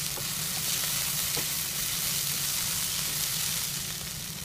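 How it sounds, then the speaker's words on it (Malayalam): Chopped carrots sizzle steadily in a pan over a medium flame, a continuous close frying hiss with a few faint stirring scrapes and no talking. "ഇതിനെ നമുക്ക് 2 മിനിറ്റോളം മീഡിയം ഫ്ലെയിമിൽ വെച്ച് വഴറ്റിയെടുക്കാം."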